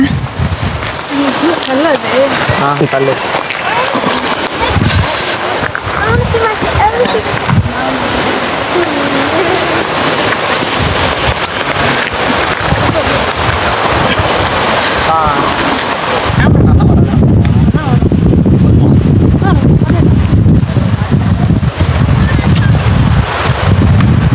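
Continuous broadband rush of a waterfall in Britain, heard from a nearby path with wind buffeting the microphone and voices at times; the roar turns heavier and more low-pitched in the final stretch.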